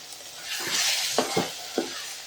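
Mutton sizzles in hot oil and masala while a spoon stirs and scrapes the pan in a few short strokes, close up and fairly quiet.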